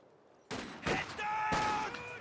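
Gunfire in Company of Heroes 2 during a 1v1 match: sudden bursts of rifle and machine-gun fire crack out at close range, with a loud volley followed by sustained rattling shots and battle noise.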